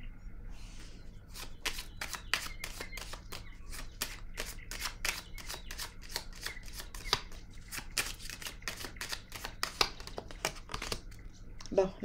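Tarot cards being shuffled and handled on a table, a long run of quick crisp riffles and flicks in a steady rapid rhythm, close and moderately loud, with a soft voice faintly underneath.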